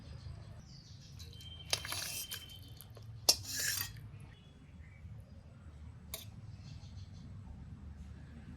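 A spoon stirs a pot of spicy boal fish tail curry, making a few faint metallic clinks and scrapes over a quiet, low background hum.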